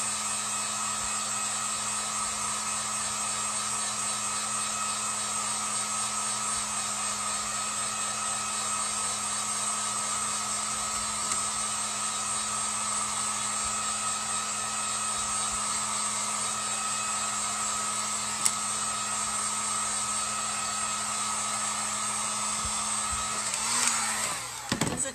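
A hair dryer runs steadily at close range to dry paint on a wooden acorn cutout, a constant loud whooshing hum that holds unchanged for nearly the whole stretch before cutting off at the end.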